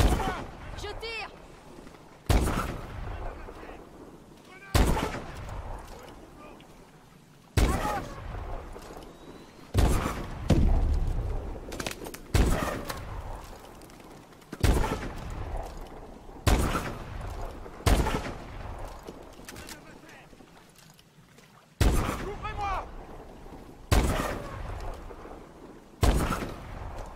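Call of Duty: Advanced Warfare gunfire rings out in sharp, loud bursts roughly every few seconds, each shot ringing briefly before the next, while voices talk between and under the shots.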